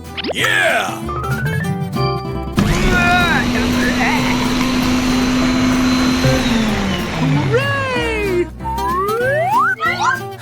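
A blender motor whirs loudly for several seconds, rising then winding down, surrounded by cartoonish sound effects and music.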